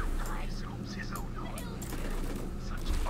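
Scattered gunfire in the Borderlands 3 video game, fairly quiet, sits under ongoing game sounds and speech-like voices.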